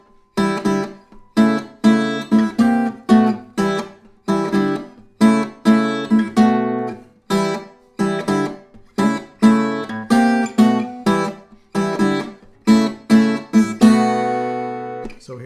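Fingerstyle blues guitar plays an ensemble ostinato with a descending bass line and a common tone on top, plucked chords repeating in a steady rhythm of short attacks and decays, closing on a sustained ringing chord.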